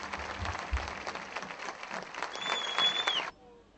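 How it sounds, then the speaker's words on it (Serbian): Stadium crowd applauding a substituted football player during a Partizan versus Banat league match, a dense steady wash of clapping and crowd noise that runs loud and continuous, then cuts off abruptly near the end. "Ovaj aplauz namenjen je Stevanu Jovetiću, koji je u 85. minutu napustio teren"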